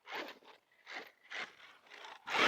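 Drivetrain of a Redcat Rampage R5 RC car grinding and crunching, a run of harsh rasping bursts about half a second apart, close and fairly loud, with a faint whine between them and a louder final burst.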